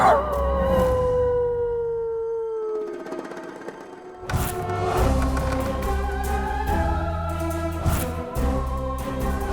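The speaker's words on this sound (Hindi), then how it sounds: "मेरे पिताजी को लगो कोई आवारा कुत्ता रोए रोहते" A stray dog howls outside a house at night, one long wavering howl that fades, followed after a short pause by a burst of overlapping howls and yips, loud and close.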